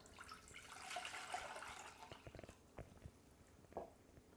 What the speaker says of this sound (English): I'm going to start by adding